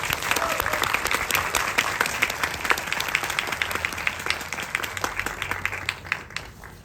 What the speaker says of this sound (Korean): 큰 박수로 환영 부탁드릴게요.